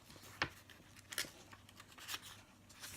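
Scissors cutting coloured plain paper: a few faint, short snips and crisp paper rustles spaced about a second apart, close but quiet.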